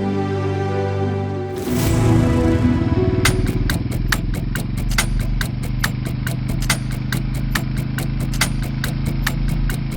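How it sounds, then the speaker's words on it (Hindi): A motorbike running without a silencer, its engine revving up loudly and then settling into a harsh, rapid popping idle close by. "ये आजकल के रोड साइड रोमियो भी ना साइलेंसर लगाना भूल गए अपनी बाइक में।"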